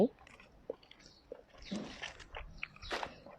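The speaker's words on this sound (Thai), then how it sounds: "อันนี้มากินแหนม หมู" Someone bites and chews homemade Thai fermented pork sausage (naem) up close, with soft crunchy bites and chewing sounds in short irregular bursts, fairly quiet.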